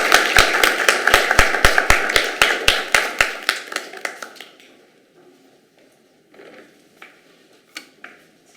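A small group claps in welcome for Ms. Patricia Mukhim at a chat event. The claps are sharp and rhythmic, about a dozen at once, and they fade out within four seconds, followed by faint scattered sounds.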